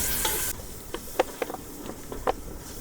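Close sizzle of food frying in a pan, with a series of scraping stirring strokes at irregular intervals over a low steady hiss.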